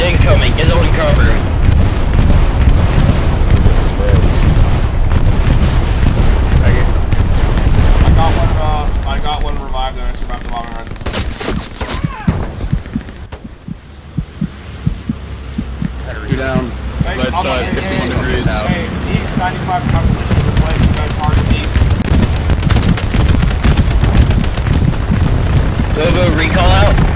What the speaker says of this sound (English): Enemy bombing run incoming, get on cover.